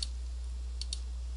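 Mouse clicks on a recording timeline in text-to-speech software: one faint click at the start, then two quick clicks close together near the end, over low steady hum.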